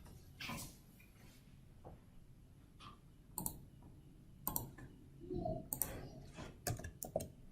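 Scattered clicks of a computer mouse pressing an install button, several sharp, isolated taps spread irregularly over a quiet background.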